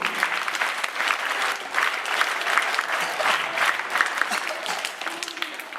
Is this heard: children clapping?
yes